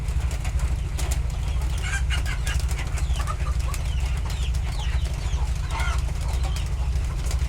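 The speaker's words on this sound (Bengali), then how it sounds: "এই বাচ্চাগুলো আসলে মিশরি মুরগির বাচ্চা" Crossbred chicks from an Egyptian father and a local hen peep continuously in a busy, overlapping chorus of thin high calls, heard over a steady low rumbling hum.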